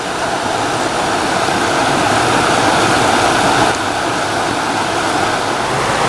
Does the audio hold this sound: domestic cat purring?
no